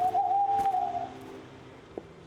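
Birds and an owl calling in the background of a war-themed video game: a steady whistled tone held for about a second, then quieter ambient calls with one brief chirp near the end, no talk.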